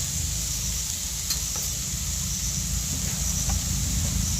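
Grated coconut and sugar cooking in a wok, a constant close sizzle with faint stirring scrapes and a low rumble underneath, even in loudness throughout; no voices.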